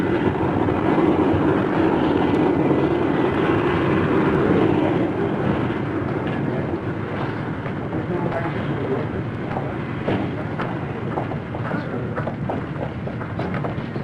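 A propeller or jet airplane arrives at an Oklahoma City airfield around the 1960s, its broad engine roar steady and loud, then easing slightly as it taxis in, with faint voices beneath.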